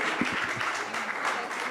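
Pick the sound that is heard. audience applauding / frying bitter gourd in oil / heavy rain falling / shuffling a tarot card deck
audience applauding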